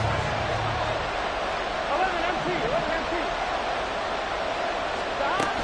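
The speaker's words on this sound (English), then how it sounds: "This crowd making it hard to hear." Stadium crowd noise in a PS5 football video game, a steady dense roar of cheering that runs throughout beneath a commentator's voice.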